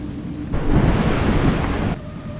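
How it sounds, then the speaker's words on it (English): Steady rain with a low rumble of thunder in the video game A Juggler's Tale on Nintendo Switch 2 swells in, holds for over a second, then fades back to a quieter background hum. "It's raining."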